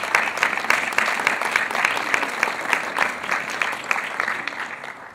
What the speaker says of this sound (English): So let's give it a round of applause for Sarah.